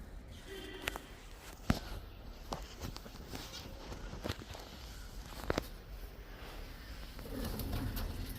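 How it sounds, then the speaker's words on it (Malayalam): A pigeon or dove coos softly beside a fish tank being cleaned, with faint, low calls under scattered taps, clicks and shuffling footsteps in a quiet room. "പുതിയ കിളി."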